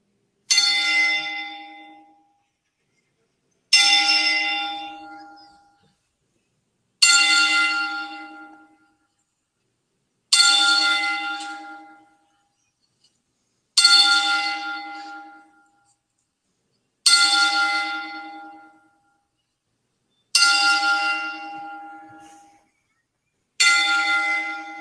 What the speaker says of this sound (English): I'm going to do a little 10-bell salute Ladies and gentlemen, for these guys. to honor the life of WWE as we toll the bell